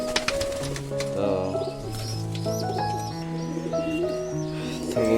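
Pigeons, including white ones, coo in a loft with soft repeated calls, close and fairly loud, joined by a few brief chirps.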